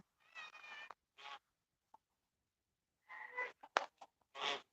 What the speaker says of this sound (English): All the stray kitties around here